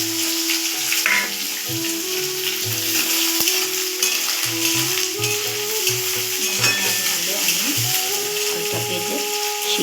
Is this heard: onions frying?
yes